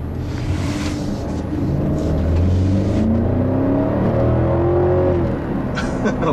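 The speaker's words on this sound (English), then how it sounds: "another acceleration clip, because that is just insane how fast this car is" A 2011 BMW X6 xDrive50i with an eight-speed gearbox accelerates hard in sport mode, its engine note rising loud and steady through the gears as pitch climbs and drops at each shift.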